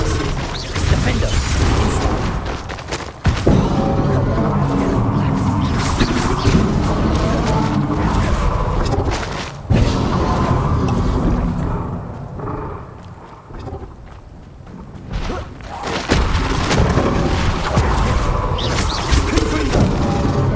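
Confringo blasting spells fire repeatedly in Hogwarts Legacy combat, loud booming bursts and crashes over a dense game soundscape with a voice calling out spells.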